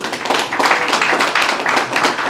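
An audience applauds at a gathering in honour of a guest, a loud, close, continuous roll of many hands clapping that holds steady for a couple of seconds.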